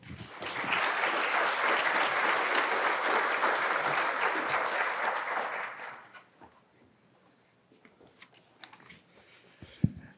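A conference audience breaks into loud, sustained applause to welcome a speaker. Dense clapping runs for about six seconds, then fades to scattered claps and small room noises.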